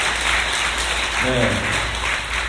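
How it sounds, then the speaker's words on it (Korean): A church congregation applauding during a Sunday service, brief steady clapping from a crowd, with a voice speaking over it. "박수 한번 하십시다."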